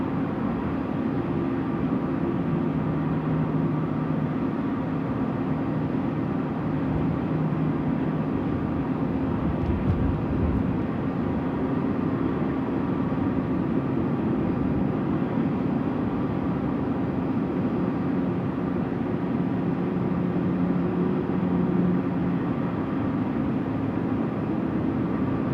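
A Thai Airways airliner at Sydney Airport at night, a steady distant engine drone with a low rumble, constant and moderately loud throughout.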